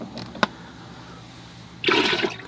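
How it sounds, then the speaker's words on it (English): A rinse-water bucket used for cleaning oil painting brushes is emptied, heard as a brief near splash of pouring water after a single sharp click and a quiet pause. "I think I'm going to empty my water bucket now"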